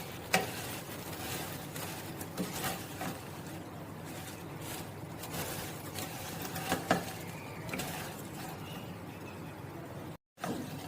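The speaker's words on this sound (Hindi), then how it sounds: "यहाँ पे सेवइयाँ हमारी भुन गई हैं अच्छी तरह से।" Vermicelli roasts in a pan for sweet seviyaan, giving a soft dry crackle with repeated spatula scrapes and stirs, fairly quiet and close, cutting out for a moment near the end; no voices.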